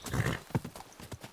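A horse trots in the medieval video game Kingdom Come: Deliverance II. A few quick, close hoof clops ring out in an uneven rhythm, fairly soft, with no talk over them.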